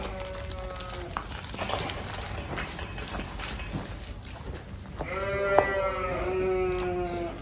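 Lambs being loaded onto a trailer to haul to the butcher bleat in several overlapping calls, strongest near the end, over shuffling hooves and outdoor noise.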